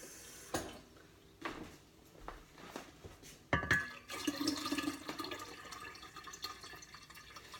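Cold water pours into a batch of homemade tea for kombucha, a soft liquid splash and fill rising near the end after a few scattered clinks and knocks, moderately quiet with no talk.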